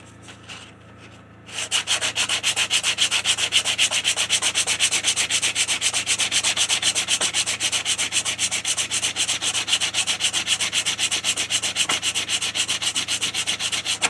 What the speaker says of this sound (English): Maybe I should take the grinder to it.